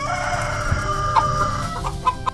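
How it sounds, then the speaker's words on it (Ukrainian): Chickens cluck on a farm, repeated short clucks and calls scattered over a steady background bed, fairly close and continuous with no talking. "Курочки весело бігали між машинами, куткудакаючи і спостерігаючи за роботою."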